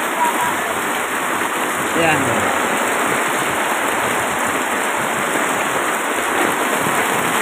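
Heavy rain pours steadily at an outdoor public market, a dense, loud, unbroken hiss throughout, with a man's brief word near the start.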